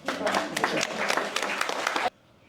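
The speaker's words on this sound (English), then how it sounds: "Let's give her a round of applause." Applause from a talk show audience, a dense burst of clapping lasting about two seconds before cutting off abruptly into near silence.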